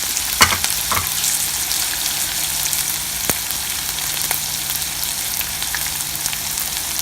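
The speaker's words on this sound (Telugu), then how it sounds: "కొంచెం ఫ్రై అయినాక అటుకులు వేసాం." Poha (flattened rice) fries in a pan with onions and chillies, a steady close sizzle with a few sharp clinks of a spoon near the start and scattered crackles throughout, no voices.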